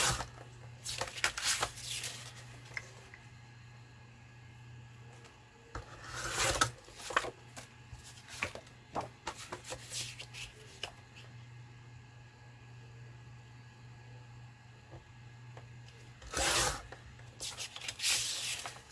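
Odd pieces of card are shuffled and handled for a paper-craft minibook: intermittent dry rustling and scraping bursts, some sharp and close, over a steady low background hum.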